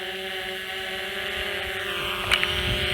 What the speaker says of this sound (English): Let me see if I can back the drone off here.